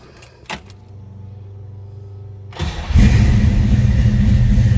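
A 1956 Chevrolet Bel Air Nomad with a 396 engine gives a click, then cranks and fires up abruptly into a loud, steady, rumbling idle heard up close.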